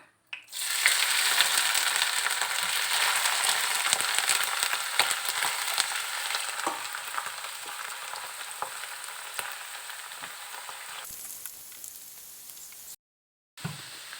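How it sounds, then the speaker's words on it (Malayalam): Loud, crackling sizzle of mushrooms frying in hot oil, dense and continuous, fading slightly before a brief cutoff near the end. "ഈ കൂണ് കുറേശ്ശെയായിട്ട് ഈ എണ്ണയിലേക്ക് ഇട്ട് കൊടുത്ത് വറുത്തെടുക്കാം"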